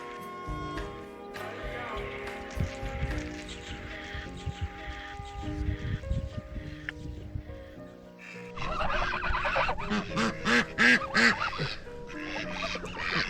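Ducks quack and geese honk in a noisy cluster, with overlapping calls growing busier toward the end and a voice briefly speaking.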